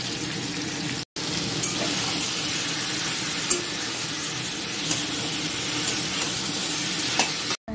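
Chana dal fritters frying in a pan, giving a loud continuous close sizzle with faint stirring scrapes, cut off briefly near the start and end; no talking.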